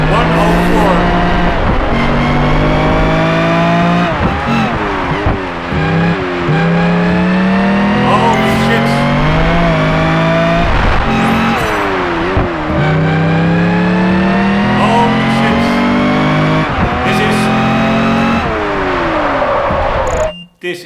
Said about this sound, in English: You hear that diff whine, you hear all kinds of mechanical analog sounds